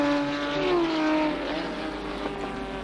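Porsche and Jaguar race cars at Le Mans in 1988 pass by, a droning, pitch-shifting engine whine from several cars at moderate distance, steady and continuous with no talk.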